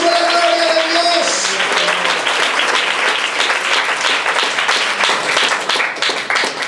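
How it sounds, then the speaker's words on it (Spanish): Loud, sustained applause from a large church congregation, dense clapping filling the room and continuing steadily throughout. "Denle ese aplauso a la gloria de Dios"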